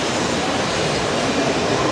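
A train rolls past at a station on the way to Osaka, giving off a dense, steady roar of wheels and rushing air, loud and close and continuous throughout.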